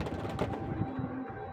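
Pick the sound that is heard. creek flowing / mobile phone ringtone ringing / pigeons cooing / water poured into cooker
pigeons cooing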